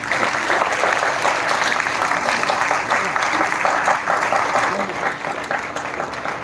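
An audience at a university technical festival inauguration claps steadily and fairly loudly for several seconds in a large hall, a dense even patter without cheering.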